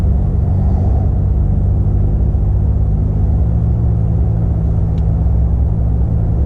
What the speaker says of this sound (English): Just went to 5th, and it did just shift.